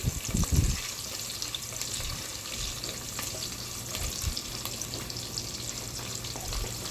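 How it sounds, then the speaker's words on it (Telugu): Green chillies frying in oil in a pan, a steady crackling sizzle that runs throughout, close and fairly loud, with a few low knocks and clatters from the pan near the start and again midway. "నేనైతే పచ్చిమిర్చి వేసుకున్నాను అనమాట. వీటిని బాగా ఫ్రై చేసుకోవాలి."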